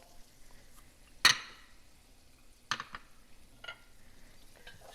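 Seasoned shrimp are stirred in a pan with salt and pepper. A sharp utensil clack against the pan is followed by a few softer knocks over a faint, quiet background, with no voices.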